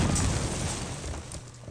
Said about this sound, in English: Oh, look out for that grenade.